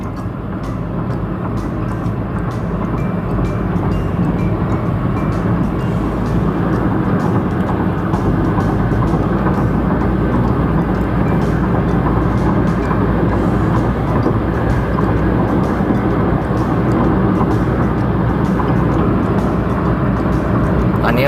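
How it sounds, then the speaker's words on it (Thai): A used fuel-saving economy car accelerates up to 100 on a test drive. Its engine and road noise form a loud, steady rumbling drone heard from inside the cabin, with faint ticks and no clear speech. "ความเร็วก็ขึ้นร้อยแล้วก็ถือว่า อัตราเร่งปกตินะครับ"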